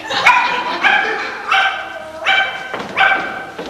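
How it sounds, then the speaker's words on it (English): During a stage play, a dog barks five times in a steady rhythm, each bark sharp and fairly close, with a slightly yelping, whiny edge. "Is that your dog out there?"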